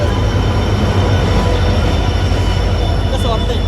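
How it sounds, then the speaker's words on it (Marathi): A passenger train rolls into a station in Chhatrapati Sambhaji Nagar with a loud, continuous rumble and faint wheel squeal, while voices talk over the noise. "रेल्वे आली"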